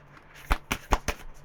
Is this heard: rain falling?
no